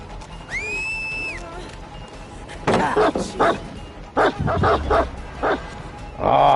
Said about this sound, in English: The dog's not going where it's supposed to go.